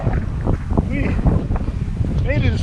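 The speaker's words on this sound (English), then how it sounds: "Now, it's wind's picked up quite a bit, so we're gonna try to go the rest of the way." Strong wind buffets the microphone while kiteboarding on San Francisco Bay, a loud continuous rumbling gust noise, with a person talking over it throughout.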